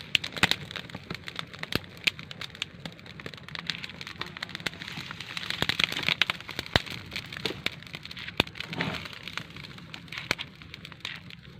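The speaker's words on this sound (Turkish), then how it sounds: "Ne güzel yanıyor değil mi ateş?" A wood fire crackles and pops with sharp irregular snaps over a soft steady hiss, fairly close, with no voices.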